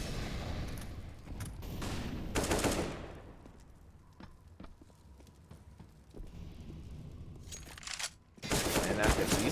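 Gunfire from a Counter-Strike match, with rapid bursts of automatic fire at the start, around the two-second mark and at the end, and scattered single shots in between. The shots are loud and close, with quieter game sounds underneath.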